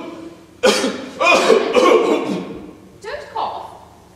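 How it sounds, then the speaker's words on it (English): A few harsh, breathy coughs in quick bursts, separated by short pauses, fairly close and loud. "When one is dictating, one should speak clearly and not cough"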